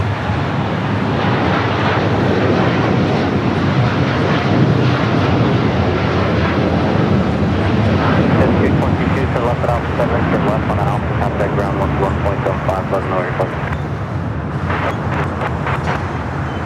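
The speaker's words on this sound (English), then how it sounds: "There's the 787-8 Dreamliner heading to Tokyo Narita." A Boeing 787-8 Dreamliner jet heading out toward Tokyo Narita at Los Angeles airport roars loudly and steadily with wind buffeting the microphone, while people talk over the engine noise.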